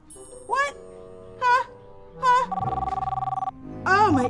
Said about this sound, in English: Oh, wait, I think that might be my phone.